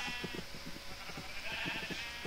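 Sheep in the Minecraft video game bleat repeatedly in short wavering calls, several overlapping cries spread across the moment, heard alone with no talk.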